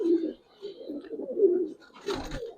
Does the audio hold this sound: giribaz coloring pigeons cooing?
yes